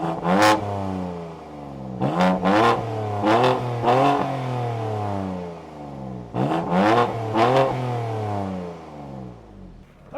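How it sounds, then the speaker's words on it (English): Several sharp revs from the S55 engine of a 2021 BMW M2 Competition, each blip rising and falling in clear harmonic sweeps, loud and close, with a steady idle in the gaps and no talk. "let's hear a couple of revs from the S55 and then take it out for a drive"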